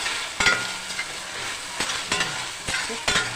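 Vegetables sautéing and sizzling in a pan for green gram kulambu, a steady frying hiss broken by several louder stirring scrapes spaced through the clip, close and alone with no talk.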